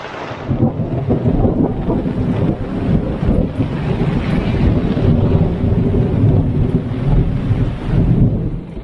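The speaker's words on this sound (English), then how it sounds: "It's raining." Heavy rain pours down with a deep, rumbling roar, loud and continuous, as if in a storm, on Tasmania's west coast; no voices.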